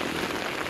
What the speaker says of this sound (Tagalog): Kanina maganda ang panahon, tapos ngayon biglang ulan, ang lakas pa ng kulog.